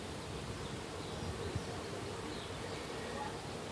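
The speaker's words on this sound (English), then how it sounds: "So I bet you there's new bees." Honey bees in an opened hive make a soft, continuous buzzing drone at low volume, steady with no breaks.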